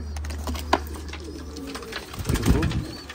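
Pigeons coo softly in a loft of newly arrived vaccinated birds, low murmuring calls near the end amid shuffling and rustling, with people talking in the background.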